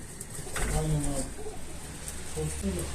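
A homing pigeon coos softly in a few low, throaty phrases at close range, with faint rustling around it.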